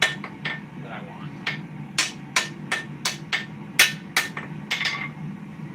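Hammer blows on a steel sword blade being forged, ringing in a steady run of sharp metallic strikes, some in quick pairs, close and loud over a low roar of the gas forge.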